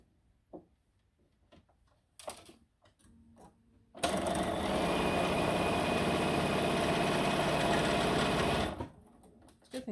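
A sewing machine stitches a log cabin quilt block in one fast, steady run lasting about five seconds. It follows a few faint handling sounds and ends in quiet.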